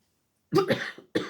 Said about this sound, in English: Proper coughing fit there.